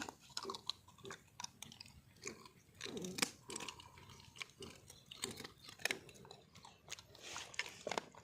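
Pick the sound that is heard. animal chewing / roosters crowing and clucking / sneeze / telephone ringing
animal chewing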